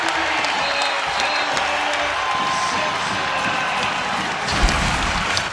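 A packed college basketball crowd at Hagan Arena, VCU versus St. Joseph's, roars with sustained applause and cheering, a broad continuous wall of noise with a few whoops.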